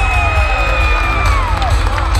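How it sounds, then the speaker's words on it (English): Big crowd at a cheerleading competition cheering steadily after a team announcement, sustained whoops and shrill shouts over a dense roar. "Cheers and more reaction."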